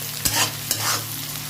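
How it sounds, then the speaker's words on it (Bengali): Chopped onions with salt fry in oil for khichuri, a close, loud sizzle broken by two scraping stirs of a spatula against the pan. "পেঁয়াজটা ভালো করে ভেজে নিতে হবে।"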